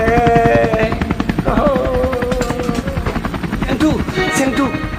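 A helicopter flying overhead, its loud rhythmic rotor chop continuous throughout, with people shouting over it.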